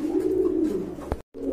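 Pigeons at a breeding farm give a soft, continuous throaty coo close by, ending with a short gap before the cooing resumes.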